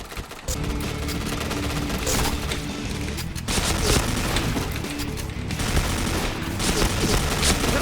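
Rapid automatic gunfire rattles continuously in the shooter game Point Blank, dense bursts of shots with occasional louder impacts, loud and close throughout.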